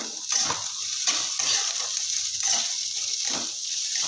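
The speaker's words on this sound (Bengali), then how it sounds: "পেঁয়াজের সাথে দিয়ে দেব রসুন রসুনটা আমি তিন থেকে চার পোয়া আমি স্লাইস করে কেটে রেখেছি দিয়ে দিলাম দিয়ে ভালো করে ভেজে নেব" Sliced onion and garlic, salted, fry in a pan with a steady close sizzle, while a spatula stirs them in repeated scraping strokes about every second. No one speaks.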